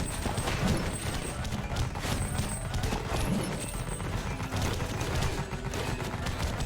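Rapid, dense gunfire from the action video game Gungrave G.O.R.E, a continuous loud clatter of shots and impacts layered over busy game effects throughout.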